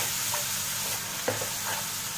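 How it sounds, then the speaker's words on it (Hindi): Spices frying in oil for aloo keema masala, a steady close sizzle with a few soft stirring scrapes and a sharper clack near the end, no voices. "मसाले के साथ हम इसे दो मिनट और भून लेंगे।"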